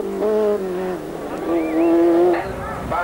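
A Ferrari GTB rally car racing along a stage at the 1983 San Remo rally, its engine note rising and falling through gear changes as it passes fairly close, with a brief skid-like squeal.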